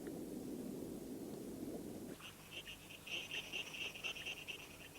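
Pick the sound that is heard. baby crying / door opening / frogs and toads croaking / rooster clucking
frogs and toads croaking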